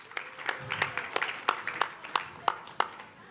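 A small audience claps for the contestants at a school storytelling competition, the sparse, uneven hand claps ringing out one after another over several seconds with no voices.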